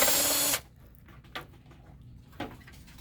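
A power screwdriver whirring loudly as it backs a screw out of a Konica Minolta bizhub C754e copier cover, then stopping, followed by a couple of faint clicks and taps nearby.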